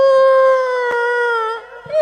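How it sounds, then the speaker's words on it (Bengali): A female dog howls close and loud in one long, sustained, slightly wavering tone that drops and breaks off into a short whimper at the end. "এখন মহিলা কুকুর কি কয় শোনেন"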